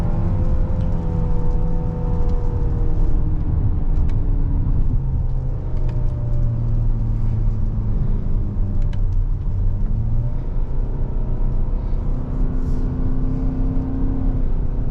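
A 2023 Hyundai Santa Fe with a 2.5 engine accelerates and downshifts, heard from inside as a loud, continuous engine drone with rising and falling pitch sweeps over road rumble.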